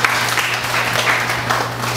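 A church congregation claps in praise, a dense, steady wash of many hands at moderate loudness throughout, with a low constant hum underneath.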